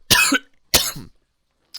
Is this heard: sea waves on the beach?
no